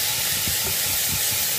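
Vegetables fry and sizzle in a pan, a steady, loud broadband hiss with faint crackles that runs alone and without a break.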